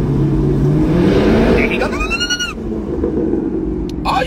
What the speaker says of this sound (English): you can rev that little engine